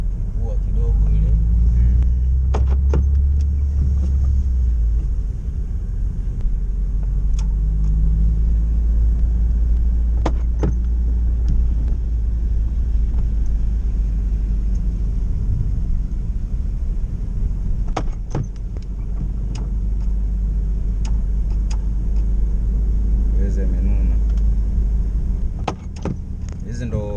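Cars and buses drive along a wet road in Cape Town in light rain, a steady low rumble of passing traffic with occasional nearby knocks and clicks and a voice speaking over it.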